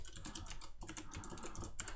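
Fingers type quickly on a computer keyboard, with a dense stream of close, crisp key clicks and only a brief pause.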